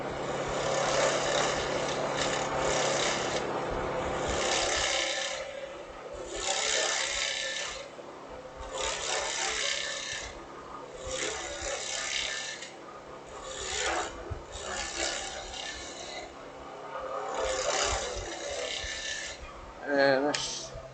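A woodturning gouge cuts into wood spinning on a lathe, producing a steady rasping scrape in repeated passes, each running a few seconds with brief lulls between them. The tool work is loud and close throughout.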